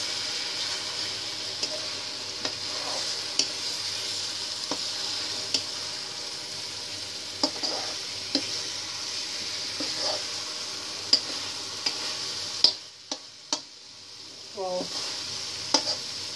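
Cauliflower fries in a pan of masala with a soft, steady sizzle, while a spoon scrapes and stirs in scattered knocks and clinks that grow sharper near the end.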